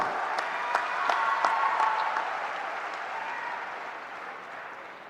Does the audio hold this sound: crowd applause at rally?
yes